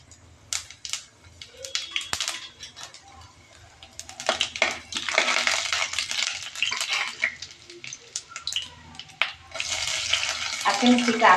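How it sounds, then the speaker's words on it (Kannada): A tempering of moong dal, mustard seeds and cumin crackles and sizzles in hot oil, with scattered pops and spoon scrapes building into bursts of loud hissing, close to the pan. "ಜೀರಿಗೆ ಹಾಕೊಂಡು ಒಗ್ಗರಣೆ ಹಾಕ್ಕೊತೀನಿ."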